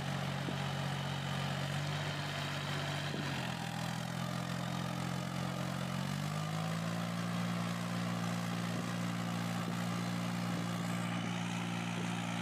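A 4x4 mini tractor pulling a deep-set plough drones continuously, its engine holding a steady hum with a few shifts in pitch as the load changes.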